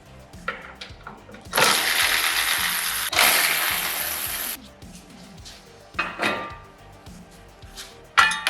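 Ratchet wrench removing bolts from a brand-new Chevy Bolt EV replacement battery pack, heard as two long bursts of rapid ratcheting clicks with scattered metallic clanks and handling noise between them, close by.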